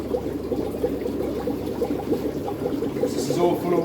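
Water runs and gurgles from the end of an aquarium hose pipe as a piranha tank is drained, a steady close trickle with a brief splashier burst near the end.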